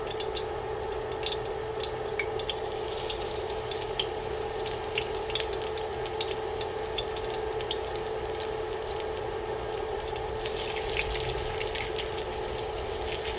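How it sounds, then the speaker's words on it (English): Beef strips fry in batches in hot oil in a wok for a crispy beef stir fry, giving a steady, close sizzle with scattered crackles and pops throughout, and no voices. "once my oil has heated up, I'm going to go ahead and add my beef"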